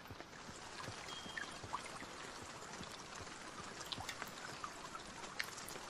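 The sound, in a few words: rain in the video game Zompiercer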